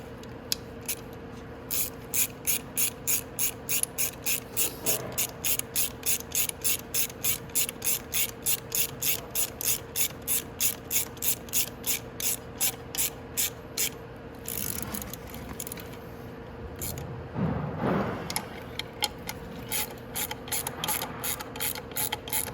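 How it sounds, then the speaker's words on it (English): Ratchet with a 10 mm socket tightening the swing arm bolts on a Venom X22GT 250cc automatic motorcycle, a rapid run of evenly spaced sharp clicks nearby, pausing briefly with a rustle before clicking resumes. "Now we just need to take our 10 mil. Tighten our swing arm bolts on."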